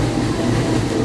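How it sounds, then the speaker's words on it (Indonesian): An economy-class Matarmaja passenger train running on the line in Indonesia, heard from inside the carriage as a loud, steady low rumble without talk. "Oke, perjalanan kereta api"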